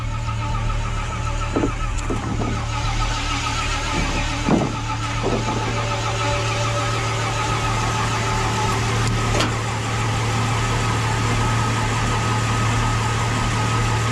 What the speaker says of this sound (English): Starter stuck again.